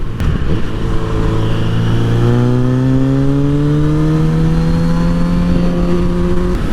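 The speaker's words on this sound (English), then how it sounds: "I love riding my motorcycle on 95 South" A motorcycle cruises on a highway, its engine loud and close with a steady drone that climbs in pitch as it accelerates, wind rushing throughout.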